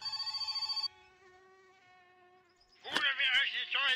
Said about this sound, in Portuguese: Meu telefone tá tocando, deixa eu atender.